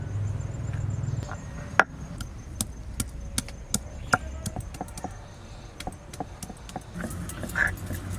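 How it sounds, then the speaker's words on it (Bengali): Ginger and garlic are ground by hand into paste, producing sharp, irregular knocking taps at close range, spaced roughly every half second over a quiet background. "এবার আমি মশলাগুলো বেটে নিচ্ছি আদা দেবো আদা রসুন"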